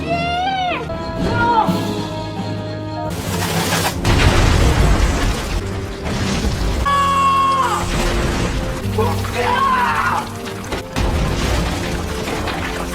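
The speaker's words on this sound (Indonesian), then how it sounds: "Saat bom dinyalakan, seketika terowongan langsung roboh." A bomb detonates in a film scene and a tunnel caves in: heavy booms, crashing debris and a long rumble build across the scene, with cries and shouting voices breaking through the din.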